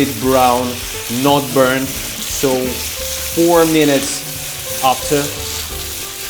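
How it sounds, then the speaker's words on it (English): Beef with garlic and ginger sizzles as it is stir-fried in a wok, a continuous frying hiss running beneath a person talking throughout. "constantly stir the ingredients in the center of the wok while pushing them around the edges"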